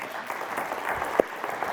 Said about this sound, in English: they're the ones who deserve the round of applause.